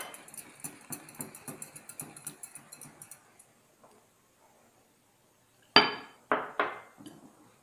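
A whisk beats vanilla cupcake batter in a bowl with quick, even clinking strokes for about three seconds. After a short silence come a few sharper, louder knocks against the bowl.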